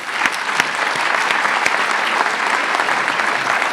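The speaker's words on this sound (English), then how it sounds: "I think we need to give everybody here a round of applause." An audience at a village public forum in Glenview applauds loudly and steadily, dense clapping from many hands filling the room throughout with a few sharper claps standing out.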